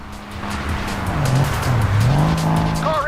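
Speeding cars on the Autobahn in the Crash Time IV driving game roar past with engines straining while tires squeal and skid in a long wailing slide, loud and close.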